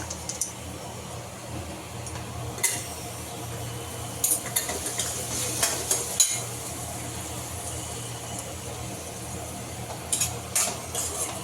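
Tomatoes frying with browned onions in a pan for pav bhaji, a steady close sizzle with occasional clinks and stirring scrapes, no talking.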